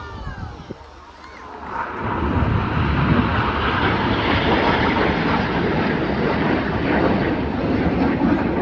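Red Arrows jets perform the Hannah break, a loud sustained roar that swells in after a quieter opening and holds steady, with a crowd or commentary faintly underneath.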